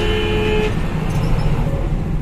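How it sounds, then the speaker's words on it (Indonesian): A short, thin horn toot sounds over the steady rumble of a Fuso Fighter dump truck and traffic, then cuts off as the engine noise continues. "Loh kok ada klakson cilik ini?"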